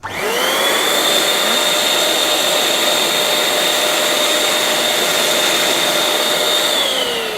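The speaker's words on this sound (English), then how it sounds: "I'm going to inflate it with air because that makes the removal of the valve a lot easier." An electric balloon inflator blows air into a balloon with a loud, close, steady whirring whine that starts with a rising pitch and sinks as it switches off near the end.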